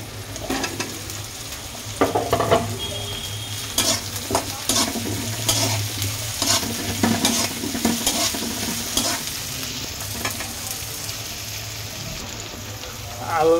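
Sliced potatoes and onions frying in a pan give a continuous sizzle, broken by repeated scraping and clattering strokes of a spatula as the mixture is stirred, close and moderately loud.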